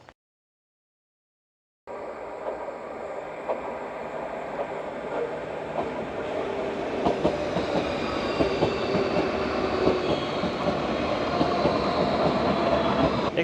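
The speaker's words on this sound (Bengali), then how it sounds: "দেখতে পাচ্ছেন আমার পিছনে একটা ট্রেন অলরেডি আসছিল এবং চলে যাচ্ছে" A fast electric train passes a village station near Madrid. After a brief silence it rumbles in loud and close, and wheel clatter and rail hiss build steadily as it goes by, with no talk over it.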